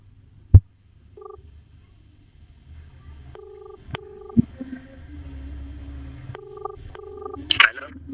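A phone call rings out on speakerphone during a prank call, with repeated electronic ringback tones in two short bursts. A sharp thump comes first, and faint handling noises and a low hum run between the tones.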